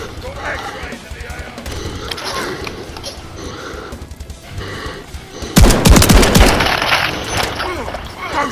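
Automatic rifle fire rattles in an online Modern Warfare 3 beta match, with scattered shots early and a loud, close burst of rapid gunfire in the second half.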